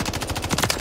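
Rapid automatic gunfire in Call of Duty MW3 on the Skid Row map, a fast, even burst of about a dozen close shots packed into under a second.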